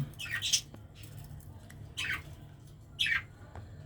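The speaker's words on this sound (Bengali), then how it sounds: "আজকে আমি আপনাদের দেখাচ্ছি একজোড়া ইংলিশ বাজিগার" A pair of English budgerigars gives three short, raspy squawks spaced about a second apart, close and fairly loud over a low steady hum, with no one talking.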